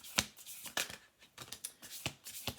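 Tarot cards are shuffled in a series of separate crisp riffles and flicks, six or seven quick bursts spaced across a few seconds, close by and fairly quiet with no talking.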